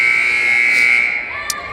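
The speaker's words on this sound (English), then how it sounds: "waiting for the buzzer, there it is." A volleyball game buzzer signalling the start of a set in a girls' varsity high school gym, one loud, steady electronic tone holding for about a second before cutting off amid faint crowd noise.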